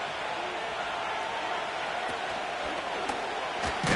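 Stadium crowd noise from an NFL football video game (Madden, Colts versus Broncos): a steady, broad roar of spectators that swells slightly near the end, with commentary voices over it.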